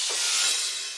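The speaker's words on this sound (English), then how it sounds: "I have two little quiet cymbal hits" Two quiet cymbal hits from a sampled drum fill, blending into one bright, hissing, shimmering wash that lingers about a second, soft and alone.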